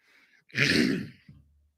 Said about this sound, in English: Sorry about that. To keep clearing my throat.